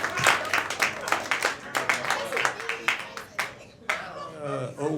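A comedy club audience claps rhythmically for comedian Mike Morrison as he is brought to the stage, steady clapping mixed with crowd noise and a voice talking over it.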